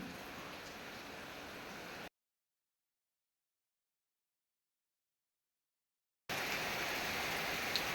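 Heavy rain pours with a steady broad hiss, cut off by about four seconds of complete silence before the downpour returns.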